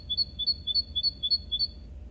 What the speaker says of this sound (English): A single bird calls from somewhere beyond the garden.